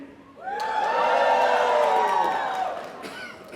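An audience at a college commencement keynote in New York breaks into loud, sustained cheering with whoops and shouts, swelling quickly and holding for about three seconds before fading.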